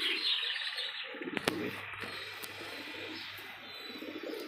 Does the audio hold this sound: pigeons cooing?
yes